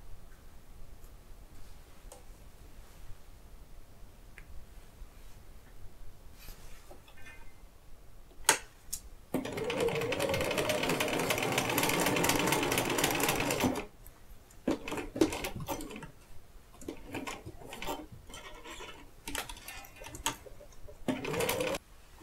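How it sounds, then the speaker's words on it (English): A sewing machine sews two quilt halves together in one loud, steady whir of about four seconds, with quieter ticks, clicks and handling noises of fabric before and after it and no talking. "We've sewn the two halves together"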